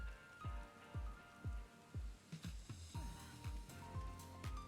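Glass rain falls in the video game Final Fantasy XIV, with irregular, ringing impacts that land about every half second over a faint background, each impact sharp and briefly decaying.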